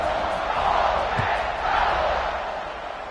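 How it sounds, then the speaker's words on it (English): Football stadium crowd at an Ole Miss vs Texas game roaring in a sustained, loud wash of cheering and shouting, steady throughout with slight swells, broad and distant-sounding. "this crowd is feeling themselves after that last drive"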